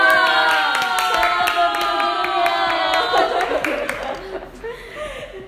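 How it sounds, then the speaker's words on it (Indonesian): Scattered hand claps from a small group of high school graduates and teachers at a podcast recording, sharp and close, mixed with chuckles and laughter and fading out toward the end. "Tepuk tangan dong"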